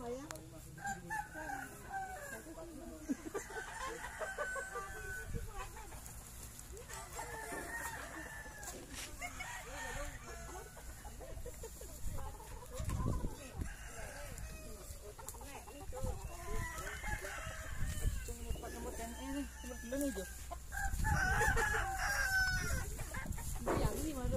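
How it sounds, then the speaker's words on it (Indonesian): Chickens cluck and a rooster crows repeatedly at a Balinese 42-day ceremony, the calls recurring throughout over a background of faint voices and ambient noise. "Ayam."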